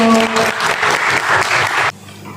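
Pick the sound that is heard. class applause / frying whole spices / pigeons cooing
class applause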